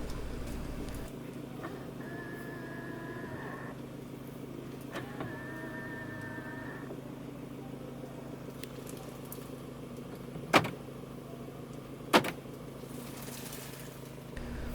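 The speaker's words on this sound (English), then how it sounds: "All 4 windows are also one-touch automatic up and down." Power windows on a 2020 Ford Everest 2.0 Bi-turbo Titanium 4x4 run twice in a row, each giving a short motor whine of a second or two inside the cabin, followed by two sharp clicks, with no talking.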